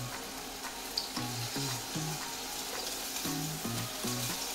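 Tofu pieces frying in a pan until golden brown on all sides, a steady broadband sizzle with soft low tonal notes running beneath it and no voices.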